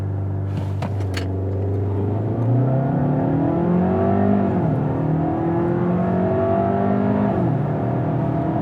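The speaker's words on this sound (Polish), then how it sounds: "sprawdźmy, jak ten samochód przyspiesza ze startu zatrzymanego" A 2023 Skoda Kodiaq with the 1.5 TSI petrol engine launches hard from a standstill in sport mode, engine note climbing through the revs with audible gear shifts, loud from inside the cabin.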